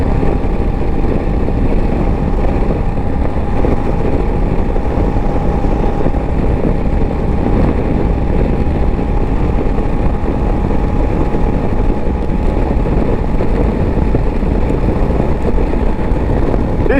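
A 2024 Honda Africa Twin 1100L motorcycle being ridden, with a steady, close engine and wind roar that runs unbroken and loud throughout, and no voices.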